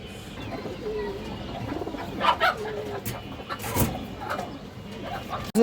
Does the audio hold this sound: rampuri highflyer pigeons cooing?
yes